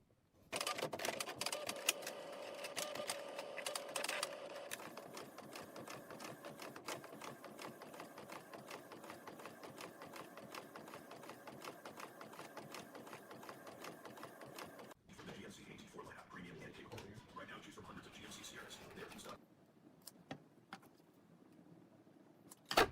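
A printer runs while printing fabric labels, a busy mechanical whirring and rattling of the print head shuttling back and forth for about fifteen seconds, then quieter clicks and feed noises before it stops.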